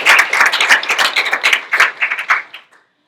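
A small group claps in a brisk, uneven patter for a few seconds before the applause fades out to silence.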